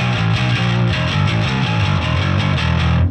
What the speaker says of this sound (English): you get more grind, more guitar-like distortion.